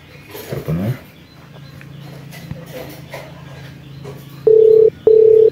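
A telephone call rings through as two loud, identical steady tone bursts near the end, after quieter shuffling sounds and a low hum.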